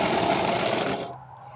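A Meccano-built gear cutting machine runs with a Dremel cutting wheel, giving a loud, harsh grinding whine that stops abruptly about a second in, leaving a low, quieter hum.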